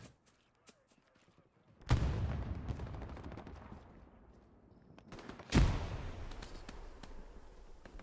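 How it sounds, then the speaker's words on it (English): Artillery fire in a World War Two online shooter game, with two heavy booming blasts a few seconds apart, each trailing off in a long rumbling decay, and faint clicks and distant shots before them. "Well, it's got to be Allied artillery."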